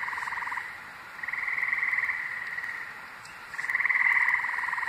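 Frogs croaking at night during an outdoor campout, a dense buzzing chorus that swells and fades in waves, steady and fairly near, with no voices.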